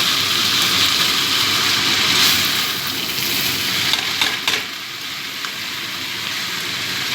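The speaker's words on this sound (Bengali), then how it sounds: "মশলাটা দিয়ে ভালো করে মিশিয়ে নিচ্ছি" Spices stirred and frying in a pan for a coconut and banana flower (mocha ghonto) dish, giving a steady broadband sizzle that stays loud and dense throughout, with a few brief scraping clicks near the middle.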